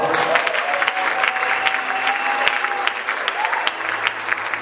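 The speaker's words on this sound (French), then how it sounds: "Montre-moi que tu t'entends avec ton voisin. Dis voisin, tu es béni. Et je t'aime. Acclame pour toi." A church congregation at a Sunday service bursts into sustained, dense applause, loud and close, with a few cheers and voices rising through the clapping.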